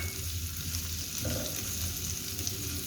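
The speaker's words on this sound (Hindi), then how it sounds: "शिमला मिर्च को भी हल्का सा पका लेंगे।" Capsicum cooking lightly in a pan for chilli chicken, with a low, steady frying sizzle that holds even and fairly quiet throughout, nobody speaking.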